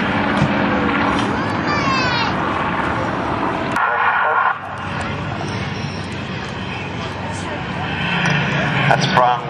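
A section of three Spitfire fighters breaking formation at the Duxford Legends airshow, engines droning and rising in the distance, while a commentator talks over the aircraft noise throughout.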